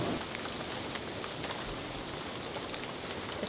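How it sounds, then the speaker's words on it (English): Steady rain falls in a Costa Rican rainforest in Tortuguero National Park, a dense, continuous patter of drops on leaves and ground that holds an even level throughout, with no voices. "Starts raining again."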